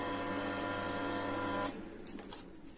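A home ice cream maker with its own built-in freezer runs with a steady, humming motor drone that cuts off abruptly partway through, followed by a quiet click and faint handling noise.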